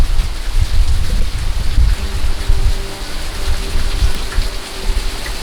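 Hurricane Laura's Category 4 rain blows past in strong wind, a steady loud wash of rain with low gusty rumble throughout, close and continuous, no voices.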